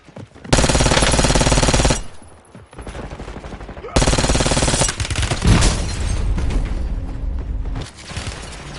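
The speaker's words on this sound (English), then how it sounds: "Taking effective fire." Heavy automatic gunfire in Call of Duty Warzone comes in two long, loud, sustained bursts separated by a short lull, with continuous rattling shots and mechanical clatter filling the gaps.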